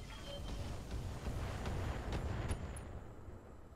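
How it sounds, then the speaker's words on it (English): A thermobaric explosion in the mech combat video game Roguetech, a broad rumbling blast that swells and then fades over several seconds, with no talk over it. "Thermobaric explosion."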